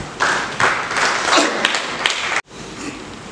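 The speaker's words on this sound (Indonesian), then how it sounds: "Kita tepuk tangan buat Tuhan" A church congregation claps together in praise during a sermon, a short burst of close, uneven hand claps with a few thumps that cuts off abruptly, then faint room sound.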